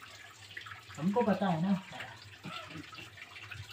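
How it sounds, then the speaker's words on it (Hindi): Water flows and trickles steadily inside a long cave, a continuous wet wash running under the whole stretch while people talk nearby. "वहाँ से आया है पानी, ये जो साउंड आ रही है"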